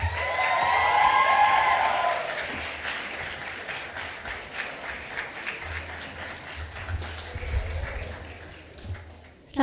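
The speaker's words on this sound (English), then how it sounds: "Let's give a huge round of applause to Ms." Audience applause for a speaker at a media festival, a broad sustained wash of clapping that fills the first seconds, then gradually thins with some lingering claps and background murmur before a voice begins at the very end.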